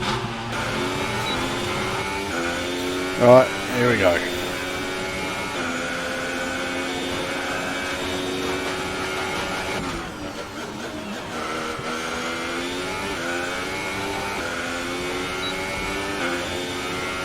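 An F1 car in F1 2018 pulls out of the Albert Park garage, its engine a steady high-pitched drone that rises and shifts gears, with a few loud bumps early on and a brief spoken remark.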